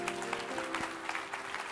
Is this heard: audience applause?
yes